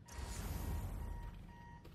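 An alarm clock beeping in Dr. Connors' empty home in the Spider-Man 2 video game, a thin repeating electronic tone sitting faintly over a low rumble.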